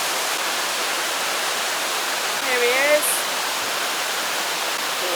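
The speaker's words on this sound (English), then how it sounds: "That cool spray from the waterfall." The waterfall at Lover's Leap in Nuwara Eliya, Sri Lanka, pours as a steady, full roar close by, with someone briefly speaking over it midway.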